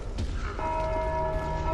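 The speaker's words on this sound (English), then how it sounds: "this shows what happens when the bell is rang" A bell rings in the Dark Souls game, a deep struck tone with a sustained ringing hum that carries steadily through the whole short moment over low rumbling ambience.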